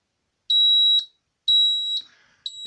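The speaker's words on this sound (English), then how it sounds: "It will start beeping very loudly." An Interlock Innerkey electronic lockset alarm sounds loud, piercing high-pitched beeps, close by, in three evenly spaced tones of about half a second each, separated by silence.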